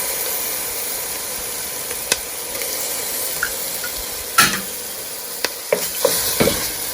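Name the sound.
sausage and yellow rice sautéing in a pan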